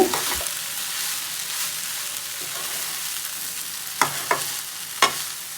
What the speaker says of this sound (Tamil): இப்போ இதையும் சேர்த்து நல்லா ஒரு கலரு கலரி விட்டுங்க